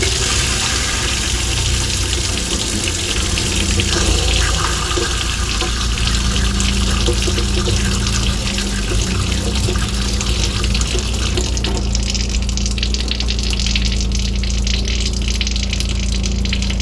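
A caravan water pump, too big for its system, runs continuously with a loud, steady hum and whir, mixed with rushing water from a tap.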